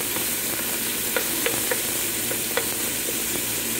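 Mutton head curry with curry leaves stirred in a pan, a steady close sizzle broken by a few soft scraping clicks of the spoon, with no voices.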